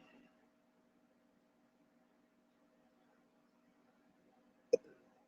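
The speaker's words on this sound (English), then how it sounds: "Burping on live stream." A single short, abrupt burp breaks near the end of a nearly silent stretch with only faint background hum, loud and close against the quiet.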